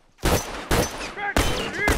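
Four loud, sharp rifle shots in a first-person shooter game, spaced unevenly over two seconds, each with a short ringing tail and faint shell-like pings between.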